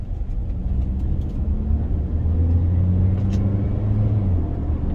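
A first-generation Toyota RAV4 engine pulls in first gear with a steady, loud low rumble and a droning tone that holds close to the microphone, with no speech over it.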